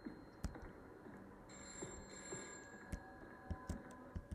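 A telephone upstairs in a Roblox house keeps ringing, a quiet high bell tone that comes in and out, with sharp clicks and ticking at regular intervals.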